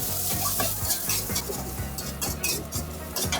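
Garlic, coriander root and shallots fry in hot oil for pork fried rice, a loud close sizzle with rhythmic scraping and clinks of a utensil stirring in the pan.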